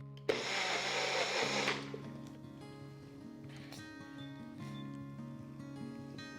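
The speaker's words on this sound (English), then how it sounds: "I've just added some water, and I'm going to grind it again" A kitchen blender grinding soaked rice with water gives a short, loud burst of whirring near the start, stopping after about a second and a half, followed by quieter tones and a few knocks.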